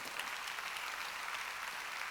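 A church congregation at a Wednesday worship service claps steadily, a dense even applause sustained throughout with no voices over it.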